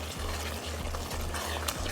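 A spoon stirs ketchup into a cooking shepherd's pie filling, making a continuous soft, wet scraping and bubbling texture with a faint low rhythmic hum underneath, no talking.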